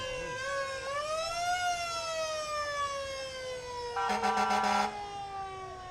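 A fire engine siren at a parade wails in rising and falling sweeps, close and loud throughout, with a burst of rapid electronic yelp pulses near the end.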